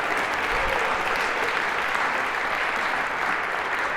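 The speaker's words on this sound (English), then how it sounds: "A round of applause for our final volunteers." Lecture hall audience at a university computer science lecture applauding volunteers, a loud, even, sustained clapping that continues throughout with no talk on top.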